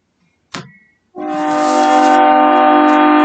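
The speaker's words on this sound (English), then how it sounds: "This train is being a nuisance." A train blares its horn nearby, a loud sustained tonal blast that swells and holds steady after a short sharp knock.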